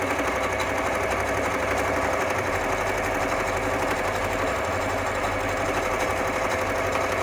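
A sewing machine runs continuously and loudly up close, its fast even needle rhythm humming while stitching the pleats of a short fan on a Bharatanatyam dance costume.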